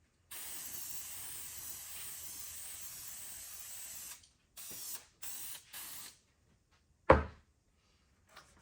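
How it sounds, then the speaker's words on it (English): An aerosol can of spray adhesive hisses in a long steady spray, then in several short bursts, and a sharp clack of the can follows, during cushion upholstery work. "I'm going to take some spray adhesive."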